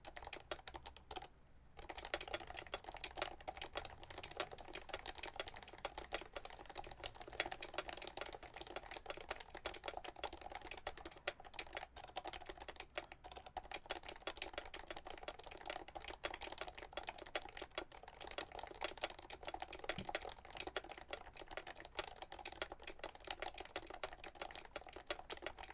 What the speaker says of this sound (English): And if you just want a quick 30-second type test